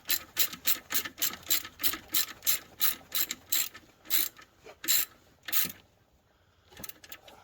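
Rapid, rhythmic ratchet wrench clicking in quick bursts while tightening bolts during an alternator replacement, close and crisp, pausing briefly before a few final clicks; no voices.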